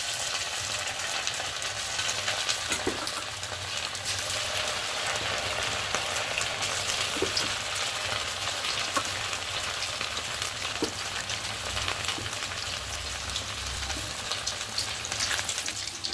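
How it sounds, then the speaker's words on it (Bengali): Marinated chicken pieces for chicken pakora fry in hot oil in a wok, giving a steady, dense sizzle that runs the whole time, with a few faint scrapes and clinks of stirring and no talking. "এবার চিকেনগুলো প্রথমে চিকেনগুলোকে ভেজে নেব।"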